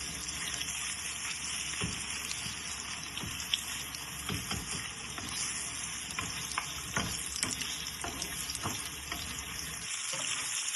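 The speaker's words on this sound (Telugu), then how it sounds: "ఈ చికెన్ అయితే చక్కగా ఎర్రగా ఫ్రై చేసుకోవాలండి." Chicken pieces fry in a pan for chicken fried rice, a steady close sizzle with occasional stirring scrapes and clicks, moderately quiet and without voices.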